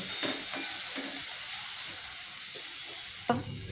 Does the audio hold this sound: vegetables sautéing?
yes